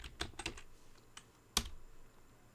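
Brief typing on a computer keyboard, a few quick close key clicks followed by a single sharper keystroke, faint and without speech.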